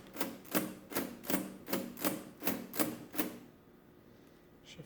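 Keys are pressed on a Comptometer 3D11 mechanical calculator, eight sharp clacking strokes in a fairly even rhythm, close and crisp, then a quiet pause with a faint click at the end.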